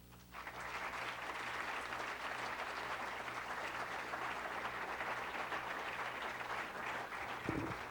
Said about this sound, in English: please welcome me in joining some applause here for State Senator Cecil Green and Sheriff's Lieutenant John Anderson